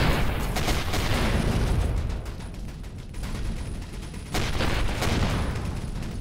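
Ship cannons firing in the space game Avorion, a dense run of overlapping booming shots that pauses briefly and then resumes, loud and close throughout with no talk.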